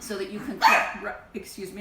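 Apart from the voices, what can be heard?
dog barking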